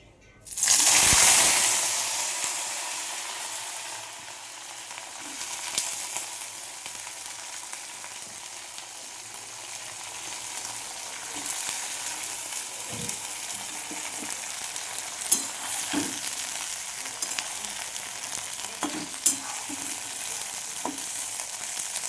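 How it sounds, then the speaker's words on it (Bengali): Cut okra sizzles in hot oil in a wok, a sharp loud burst as it goes in, then a steady frying hiss with occasional stirring clinks, no talking. "কড়াই তেল দিয়ে দিয়েছি, তেলটা গরম হয়ে গেছে। আমি ঢেঁড়সটাকে দিয়ে দেবো।"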